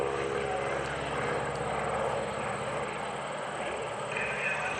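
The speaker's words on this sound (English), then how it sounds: "Rolls the airplane over as he departs Airshow Center." A Stearman biplane rolls over during aerobatics at the Greenwood Lake Airshow, its engine a steady distant drone heard across the field with a constant hum throughout.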